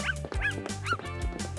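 A puppy yips and barks in short high repeated bursts, about three or four quick cries close by, with some whimpering tone between them.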